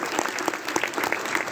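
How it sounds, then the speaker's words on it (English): A university event audience applauds a guest, brief close and steady clapping from many hands with sharp individual claps standing out. "please stand up for giving a big round of applause to our Dr. Hisar."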